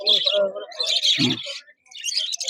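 Fischer's lovebirds and other exotic caged birds at a bird market in Dakshineswar give short bursts of chirps and squawks, close by, with brief gaps between calls.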